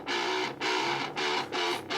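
Bass guitar track with grind distortion and the low end removed, heard as buzzy, gritty mid-range notes in four sustained bursts separated by short gaps, loud and dry.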